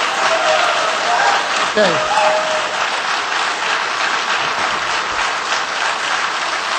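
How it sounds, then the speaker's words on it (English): A crowd applauds at a 2010 Connecticut attorney general debate, a loud, dense, steady wash of clapping after an opening statement, with a brief spoken word near the start. "I'd like to ask the audience to hold your applause until the end"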